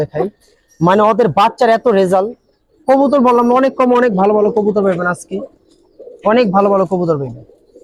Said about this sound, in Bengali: আজকে অনেক ভালো ভালো কবুতর